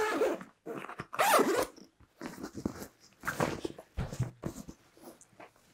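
Main-compartment zipper on a Rothco Skirmish Assault military backpack being pulled open in several quick rasping bursts, close and fairly loud, with short pauses between strokes.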